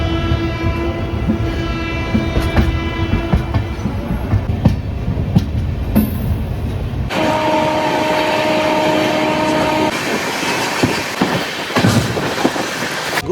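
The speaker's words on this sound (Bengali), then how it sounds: "আর 2-3 মিনিটের মধ্যে ট্রেন আমাদের ছেড়ে দেবে।" The Sealdah–Jammu Tawi Humsafar Express pulls out, heard from inside as a continuous rumble with rhythmic wheel clatter, a steady electrical hum and an abrupt shift in tone partway through.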